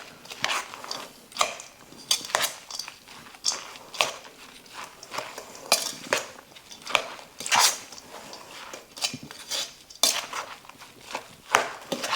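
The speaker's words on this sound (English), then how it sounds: "we're gonna give this a mix" A spoon clatters and scrapes through a walnut and raisin slaw in a bowl, with irregular clinks and wet rustles repeating for several seconds.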